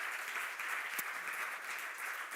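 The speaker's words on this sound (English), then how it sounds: "You can give him a warm round of applause." Warm applause from a forum audience fills the room, a dense even patter of many hands clapping at moderate distance, steady throughout with no voices.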